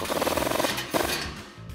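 Rapid ratcheting clicks from a wrench tightening an exhaust clamp on a RAM 1500 frame, a quick burst followed by a few slower turns, close and fairly quiet.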